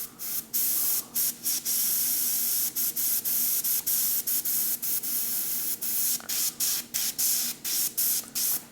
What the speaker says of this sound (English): the brush was working great, and then it just stopped spraying paint again